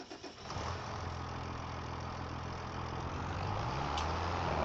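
A tractor engine in Farming Simulator 25 turns over with a brief cranking stutter, then settles into a steady, low, even idle rumble that continues to the end.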